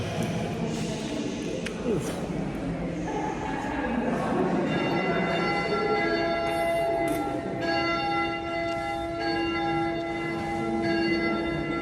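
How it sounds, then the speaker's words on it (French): A church bell rung from inside a church at Bled, Slovenia, its sustained ringing tones building and lingering over a reverberant background murmur of people nearby. "je m'apprête à faire sonner la cloche"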